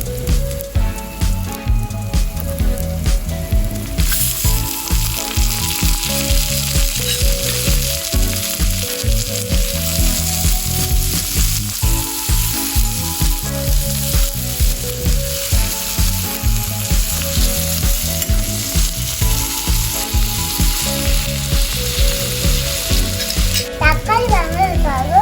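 Tomatoes sizzle in a tiny miniature pan, a dense continuous crackle with soft squishing stirs that recur in a steady rhythm throughout, fairly loud and without talk.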